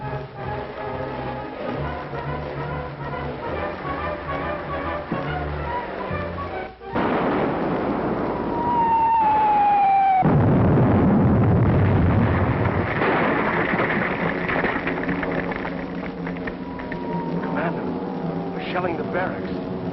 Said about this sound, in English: Shelling the barracks.